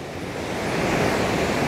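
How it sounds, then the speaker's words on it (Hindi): The Mandakini river near Kedarnath rushes fast and swollen, fed by small waterfalls along the trek. It makes a loud, continuous roar of white water with no breaks, heard up close with some wind buffeting the microphone. "नदी का बहाव बहुत तेज़ हो गया यार"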